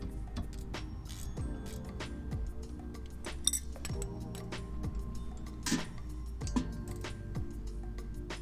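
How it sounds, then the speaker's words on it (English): Metal parts clink and tick sporadically as a brake caliper is removed from a Honda EP3 Si. Light, scattered knocks and chinks sound close by in a quiet garage-like space. "Now we're just going to take the caliper off."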